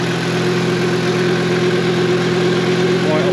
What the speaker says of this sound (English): the accessory belt is actually running